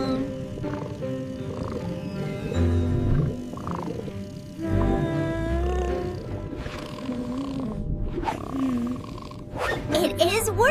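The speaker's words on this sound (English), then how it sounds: "Sending soothing whale sounds now." Humpback whale song played to calm a whale caught in a ghost net in an animated ocean rescue, heard as long, loud moaning and rising wails, with voices talking over it and some whooshing effects near the end.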